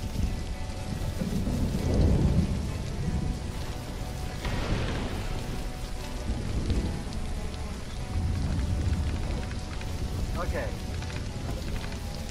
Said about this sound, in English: our research station just got hit by lightning